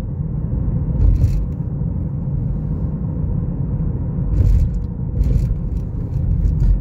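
A 2017 Ford Escape with 62k miles climbs a hill, its engine and drivetrain giving a loud, low, steady rumble with uneven surges that suggest a transmission shudder and chugging, heard from inside the cabin.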